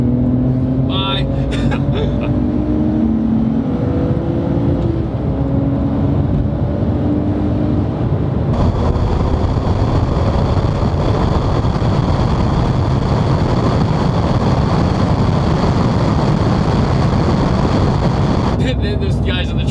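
A RUF RT12 S sports car roars hard under sustained acceleration from inside the cabin, engine pitch climbing through second gear before a shift, with heavy wind and road noise.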